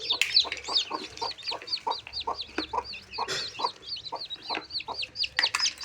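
A domestic hen clucks among newly hatched chicks, close and rhythmic, with quick repeated clucks and thin high chick peeps layered over each other throughout, with no talk.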